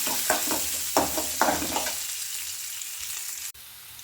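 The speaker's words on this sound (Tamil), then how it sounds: "நல்லா வதக்கி விட்டுக்கலாம்" Onions sautéing in a pan for sambar, with a few spatula scrapes and clatters over a steady sizzle in the first seconds, then a quieter hiss that drops off near the end.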